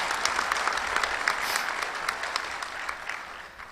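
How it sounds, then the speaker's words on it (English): A crowd's sustained applause at the 2016 National Softball Hall of Fame induction ceremony, a dense steady clapping that slowly fades. "Let's give our 2016 Hall of Fame class one more round of applause."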